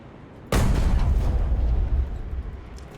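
A Jagdtiger tank cannon fires at a battleship in a video game, a single loud, close boom that hits sharply and then rumbles on in a low, rolling decay for a couple of seconds.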